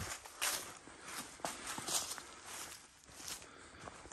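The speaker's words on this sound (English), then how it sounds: "We heard fucking footsteps." Footsteps inside a house: faint, irregular thuds and shuffles spaced roughly a second apart against quiet room noise.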